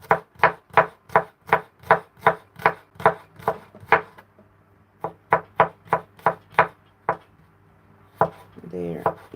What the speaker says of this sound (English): Garlic, I will try to chop also thin slices, as thin as possible.